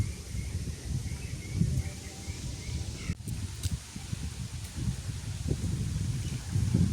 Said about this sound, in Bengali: বাতাস লাগতেছে সুন্দর এই জন্য দাঁড়াইলাম এই জায়গাটাতে ভালোই বাতাস লাগতেছে